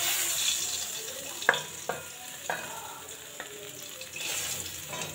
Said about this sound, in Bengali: দেখো একবারে ভেজে নিয়েছি পার্শে মাছ,